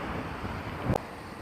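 Strong wind in Hokkaido on a coastal road near dunes and the sea, a steady broadband rush of gusting air buffeting the microphone, with one brief thump near the end.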